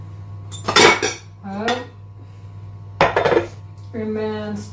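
Sliced apples tossed with granulated sugar in a bowl, bursts of clattering and scraping against the bowl, with a pause between two main bouts and a faint hum underneath.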